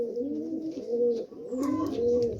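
Pigeon cooing close by in a loft of Malwai and Madrasi breeds, repeated soft throaty coos in steady bursts, alone with no talk.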